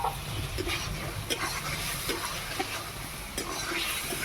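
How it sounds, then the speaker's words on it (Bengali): Fried potatoes and ground poppy seed paste sautéing and being stirred in a pan for egg posto, giving a steady close sizzle with occasional scraping clicks, no voices. "তো আলুটা দিয়ে মশলাটাকে বেশ ভালোভাবে কষিয়ে নিতে হবে।"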